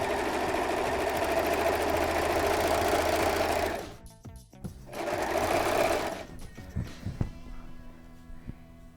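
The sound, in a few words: serger sewing machine stitching a rolled hem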